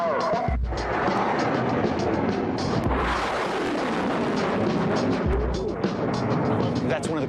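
Military rockets launched toward a bunker target roar loudly and continuously, with deep booming thumps at the start and again mid-way, a broad rushing blast that fills the whole span.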